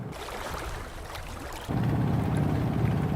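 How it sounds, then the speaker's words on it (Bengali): A shallow-pump-engine country trawler boat chugs along a river, its steady low engine drone close and loud, stepping up sharply in level partway through and holding as a continuous rumble with no talk. "স্যালো মেশিন চালিত এই ট্রলারে ভ্রমণ অতিরিক্ত শব্দ"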